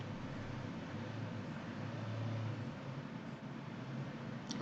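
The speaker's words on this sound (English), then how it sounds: "It's summer and it's hot. So I have the window open, which is why the traffic noise is coming in." Summer street traffic drifting in through an open window as a steady, faint low rumble and hiss, continuous and distant with no distinct passing vehicles.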